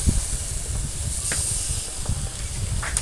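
Taro stolons hit a pan of frying onion and garlic with a steady, close sizzling hiss that holds at an even level throughout, with no voices.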